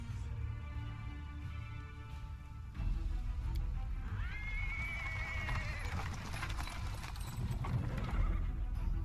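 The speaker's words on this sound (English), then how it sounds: "He is interrupted by the sound of wheels rolling on the paving stones." Hooves clip-clop over paving stones in a fantasy role-playing video game as a horse-drawn cart rolls in, with rumbling wheels, a brief whinny partway through and ambient town noise beneath.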